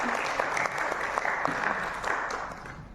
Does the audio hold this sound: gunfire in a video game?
no